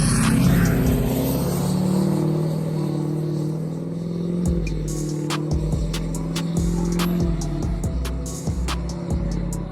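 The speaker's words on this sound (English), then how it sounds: "the amount of turbo whistle that I get in this thing makes me giggle like a schoolgirl" LBZ Duramax diesel pickup with a Banks Monster exhaust, a loud, steady engine drone with a rising turbo whistle above it, later breaking into rhythmic pulses as the revs shift; close and without talk.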